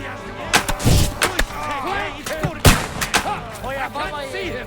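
Battle in the video game Kingdom Come: Deliverance II, with sharp close gunshots and heavy cannon booms fired in irregular bursts, loud, under shouted voices.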